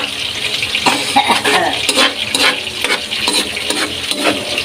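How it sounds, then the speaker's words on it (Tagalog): Vegetables sauté in a pan for ginisang gulay, a loud close sizzle with rhythmic spatula scrapes and clinks against the metal, continuous and busy, no voices. "habang nagigisa po tayo"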